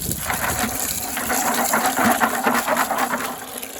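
Running water gushes and splashes over a pile of butternuts, steady and close, with faint rattling throughout.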